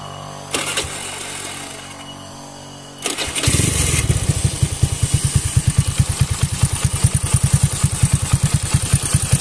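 A bore-up 130cc carbureted Honda Beat scooter engine cranks, catches after a short pause and settles into a loud, steady, close idle with a rapid rhythmic clatter.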